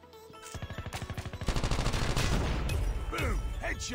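Call of Duty Mobile multiplayer gunfire: a rapid automatic burst of evenly spaced shots builds into a loud, dense volley, with a few sharper cracks near the end, loud and close.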